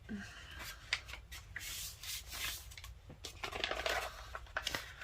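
Paper is folded by hand while making an envelope, with close, quiet rustling and creasing rubs in short bursts and a few sharper crinkles, no talking.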